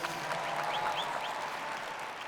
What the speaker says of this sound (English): please give them a round of applause for what they do